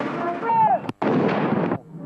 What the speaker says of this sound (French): comme les 21 coups de canon tirés aux Invalides